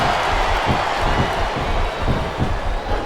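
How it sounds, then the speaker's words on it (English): Arena crowd noise from the wrestling video game WWE Smackdown vs RAW 2007 during a women's Ironman match, a continuous dense roar of murmuring fans with faint cheering, steady and fairly loud throughout. "Sounds like this crowd's got something on their minds"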